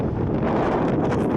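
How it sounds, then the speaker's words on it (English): Strong wind gusts roar during a January rain storm, with 120 km/h winds buffeting the microphone in a loud, dense, continuous rumble. "We're up to 120 kilometer wind."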